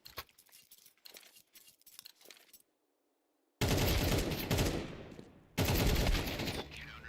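Gunfire in a competitive shooter game match: after a quieter stretch of faint clicks, two long, loud bursts of rapid shots erupt close up, separated by a brief dip.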